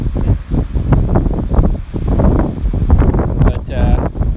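Strong wind by the sea near a lighthouse, buffeting the microphone with loud, gusty low rumbles and rushing noise that rises and falls continuously, with a faint whine near the end.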